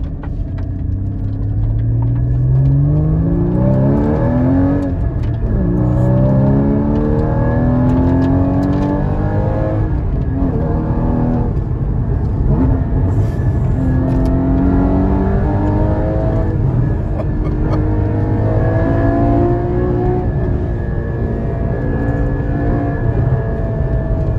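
A Porsche Cayman GT4 (981) heard from inside while being driven, its engine loud and close as it revs and accelerates through repeated rising sweeps, with a constant heavy rumble and no talking.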